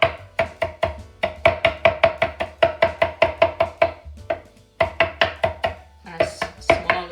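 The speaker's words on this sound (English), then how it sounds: "I will cut up my parsley" Fresh parsley is chopped with a knife on a board: steady, rapid rhythmic knocks in quick bursts, close and crisp, with a short pause partway and a scraping shuffle near the end; nobody speaks.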